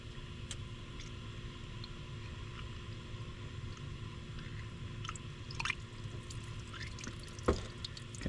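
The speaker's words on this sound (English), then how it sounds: "I'm gonna fill it up with water." Water trickles and drips as it is poured into a car's cooling system during a heater hose replacement, a quiet, steady splashing with a few sharper drips and ticks near the end.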